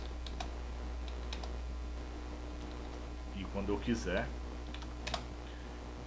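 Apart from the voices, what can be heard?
typing MS-DOS commands on computer keyboard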